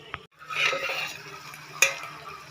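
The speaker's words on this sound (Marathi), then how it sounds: "दोन मिनटं असं परतून परतून घ्यायचं" Food is stirred and sautéed in an oil-coated pressure cooker pan while preparing patvadi rassa, with a spoon scraping and a soft sizzle. One sharp clink of the spoon on the metal pan stands out near the end.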